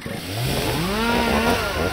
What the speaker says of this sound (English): Son, chainsaws fix everything.